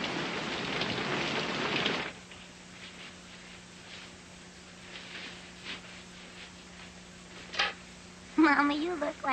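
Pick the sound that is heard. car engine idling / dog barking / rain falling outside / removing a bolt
rain falling outside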